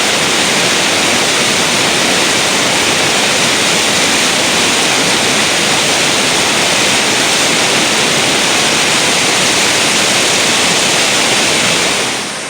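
A river rushing over class 5/6 rapids, a dense, steady roar of whitewater that stays loud and unbroken throughout with no voices, easing slightly at the very end.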